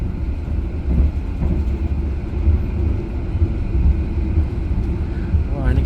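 Steady low rumble of a passenger train running alongside a passing freight train, with continuous wheel and track roar throughout and a brief rising squeal near the end.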